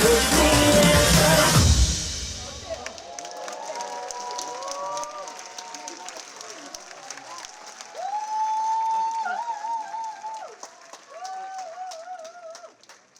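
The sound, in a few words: audience applause after a performance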